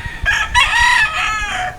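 A rooster crows once, loud and close, its long drawn-out call rising and falling over about a second and a half of faint background noise.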